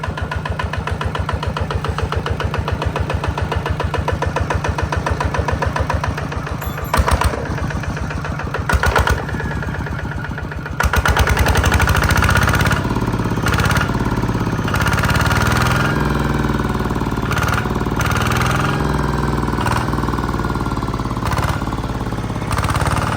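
Small diesel engine of a Kubota ZT140 Plus chugging steadily up close, with a rhythmic knocking idle that shifts to a rougher, louder run partway through.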